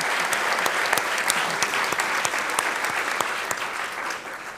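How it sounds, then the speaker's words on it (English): Steady applause from a gala dinner audience honoring the executive chef, dense and sustained throughout with crisp individual claps standing out, no one speaking. "I'd also like for a round of applause for our executive chef"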